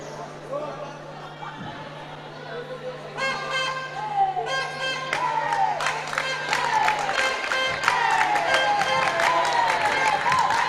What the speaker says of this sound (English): the Kville team cheering on their team.